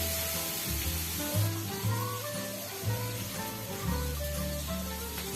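Tomato masala sizzles and fries in a pot while it cooks down until soft. A steady close hiss runs throughout, with clinks and scrapes from stirring at regular intervals.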